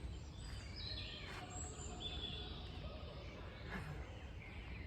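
Birds chirp and sing in a forest, with scattered calls over a steady wash of outdoor background noise and no talking.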